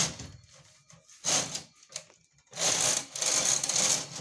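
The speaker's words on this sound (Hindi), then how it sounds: "अब कैरिस को चलाएंगे।" Knitting machine carriage run across the needle bed while making a designer sweater sleeve, giving bursts of rattling, clattering mechanical passes with short pauses between strokes.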